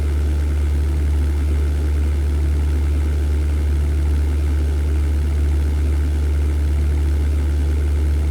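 WWII fighter aircraft engine in the flight game European Air War, a steady loud droning hum that holds unchanged throughout with no talk over it.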